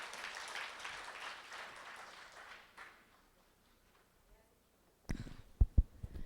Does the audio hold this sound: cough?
no